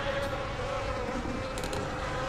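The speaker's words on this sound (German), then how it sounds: "Von wo kommen denn die ganzen Fliegen hier?" Swarm of flies buzzing steadily and close in the horror video game The Nightfall, a continuous droning hum with no speech over it.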